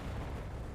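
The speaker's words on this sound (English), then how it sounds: "Oh, that's a bomb." A bomb goes off in the Enlisted video game as a short, heavy, low rumbling boom that fills the brief moment with dense, rolling noise.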